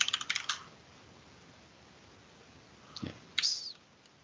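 Fingers mash the keys of a computer keyboard while typing an SSH login command: a fast cluster of clicks at the start, then a lone thump and a second short burst of keystrokes near the end, close and fairly quiet, with no talking.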